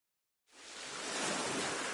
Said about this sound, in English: Yeah, you can hear the sound of the waves.